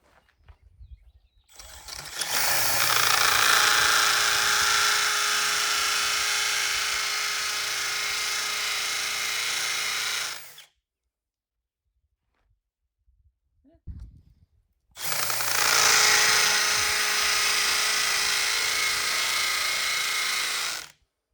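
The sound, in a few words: power drill boring with a long drill bit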